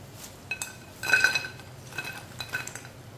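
Freshly fried namak pare tipped from the pan into a metal strainer and then onto a plate, giving light metallic clinks and a brief rattling burst of scraping and clattering, fairly close and with no talk.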